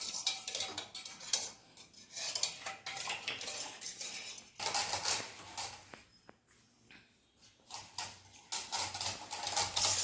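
A spoon stirs a homemade pineapple-flavoured milk drink in a glass, clinking and scraping in quick irregular runs, with a brief lull midway before the stirring resumes.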